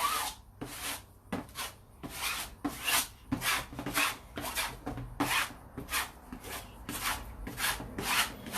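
Putty being spread with a trowel knife, a close series of rhythmic scraping rubs, roughly one to two strokes per second, repeated steadily with no talk.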